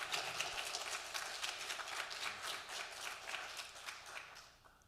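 A library audience at the Schomburg applauds after a history talk, scattered hand claps at a fairly low level, steady for several seconds before tapering off at the end.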